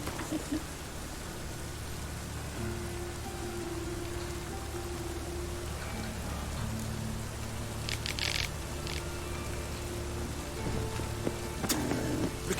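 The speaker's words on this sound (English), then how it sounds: "It's raining again." Steady rain falls in The Witcher 3: Wild Hunt, a continuous hiss of drops that runs the whole time with a low hum beneath and a few brief clatters near the end.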